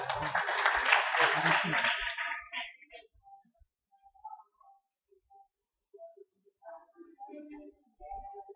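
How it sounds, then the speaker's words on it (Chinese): At a middle school camp, a crowd breaks into loud, dense clapping for the first team. It cuts off after a couple of seconds and gives way to quieter scattered voices and small sounds. "第三，要给第一个掌声啊！"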